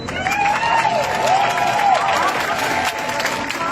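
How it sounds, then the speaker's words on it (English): Crowd applause with scattered cheers and whistles follows a call to welcome a speaker at an outdoor international campaign event, steady and dense throughout, with faint voices mixed in. "please give a round of applause to Lydia."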